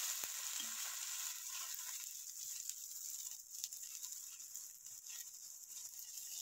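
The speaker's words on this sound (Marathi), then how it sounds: "हे लोणी लावून आणखीन परतून घ्यायचं आहे" Methi paratha fries in butter on a pan, giving a soft, continuous sizzle with faint crackles and occasional scrapes, quiet and steady throughout.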